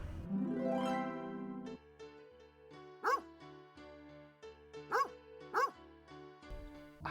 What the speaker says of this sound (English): I kind of want to make this bone dog my pet.